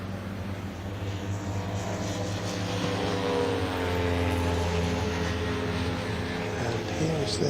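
Citroen 2CV race cars at Snetterton circuit during a 24-hour race, a continuous buzzing engine drone rising slightly in loudness as a car passes, with no voices over it.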